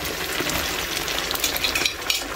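A Bengali tempering is poured into radish lentil dal and sizzles loudly and continuously, a close, dense crackling hiss with a few sharper pops near the end.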